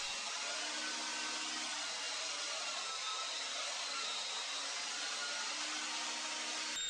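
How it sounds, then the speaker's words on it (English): A belt sander smooths wooden roundovers on parts for a crosscut fence built for an old heavy cast-iron table saw, giving a steady, unbroken whir and hiss that stays fairly faint throughout. "smoothing those roundovers out at the belt sander"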